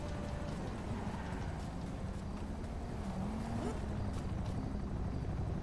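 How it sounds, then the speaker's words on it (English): Helicopters in Grand Theft Auto V, a steady droning rotor whir that holds throughout at even loudness, with no voices. "I'm gonna have to shoot down these helicopters"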